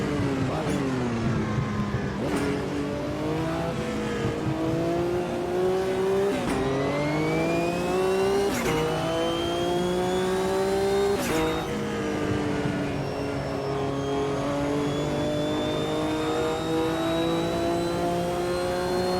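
Several race cars in the AMS 2 World Sportscar Championship, including the BMW Cup field, roar past one after another, engines revving and shifting through gears, loud and close with a steady wash of engine noise throughout.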